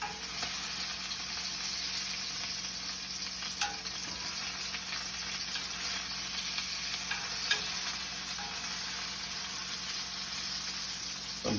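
A steak sears in a hot Finex cast iron pan at medium-high heat, giving a steady, dense sizzle and crackle close by with occasional sharper pops, and no talk.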